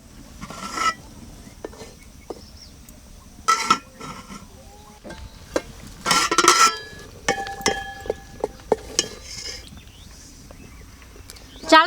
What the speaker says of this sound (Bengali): ঢাকনা খুলে মাঝে মাঝে নেড়ে দেবো যাতে চালটা নিচে না লেগে যায়।